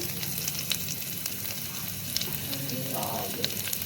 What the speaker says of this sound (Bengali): এই যে আমি এখন রসুন ফোড়নটা দিয়ে নিলাম